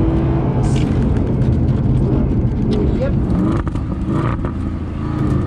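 A Mercedes-AMG SLS Black Series gull-wing V8 revs hard as it accelerates, a loud continuous engine roar close by that holds steady throughout, with a voice talking over it.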